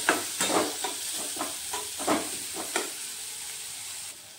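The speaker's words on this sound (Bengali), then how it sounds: "আমি এগুলোকে এখন কিছুক্ষণ একটু ভেজে নিতে হবে" Snacks frying in hot oil in a pan give a steady bright sizzle, broken by several soft stirring scrapes and pops through the first few seconds before the frying settles into an even hiss.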